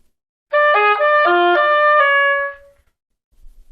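An oboe plays a short melodic phrase of several notes from an etude, slowing with a ritard toward the end before a held final note, clear and close with no talking.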